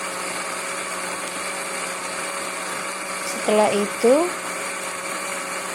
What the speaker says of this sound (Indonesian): Kemudian bumbu-bumbunya di blender ya teman-teman.